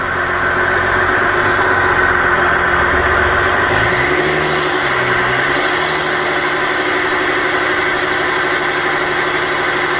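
A Mercedes-Benz ML350 engine revs steadily during a decarbonization spray treatment, a loud, close mechanical hum with one brief dip and rise in pitch midway and no talking.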